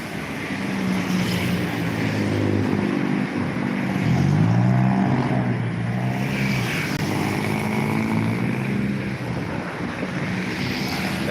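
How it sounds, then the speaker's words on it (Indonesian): Busy road traffic on Jalan Alamsyah Ratu Prawira Negara in Palembang makes a continuous roar of passing cars and motorbikes, with engines swelling nearby and steady background rumble the whole time. "Sangat ramai ini lalu lintas"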